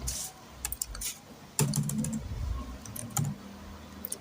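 Quick bursts of typing on a computer keyboard while writing a prime-number program in Flowgorithm, close crisp key clicks in uneven clusters with short pauses and a soft background hum.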